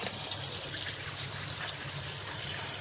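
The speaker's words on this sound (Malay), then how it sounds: "basuh dulu bersih-bersih dengan air" Water trickles and splashes steadily while dried shrimp are rinsed clean, a continuous close wet wash with no talk over it.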